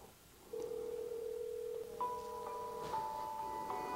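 Samsung Note Edge mobile phone sounds a steady electronic ringing tone for an incoming call, holding one pitch before shifting to a higher repeating tone, fairly quiet and with no talking.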